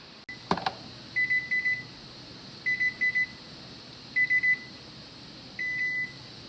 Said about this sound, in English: our timer went off